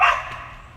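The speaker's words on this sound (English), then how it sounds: "That's my dog." A single dog bark, close and fairly loud at the start, trailing off quickly into a quiet room with no one talking.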